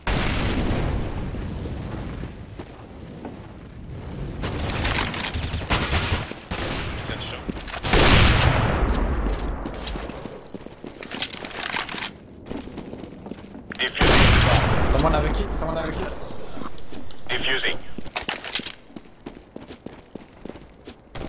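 Gunfire in a Counter-Strike match: bursts of rifle shots and bangs crack out in irregular clusters, some loud and close, others more distant, with spells of quieter game ambience in between.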